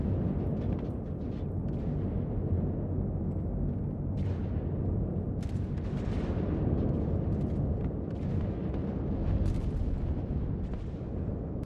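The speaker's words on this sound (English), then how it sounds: "the missile PDC is shooting the missile turret of the station" Sustained rumbling turret fire in the Star Citizen space game, a missile PDC shooting at a space station's missile turret, with dense continuous booming bursts and several sharper blasts flaring through the steady roar.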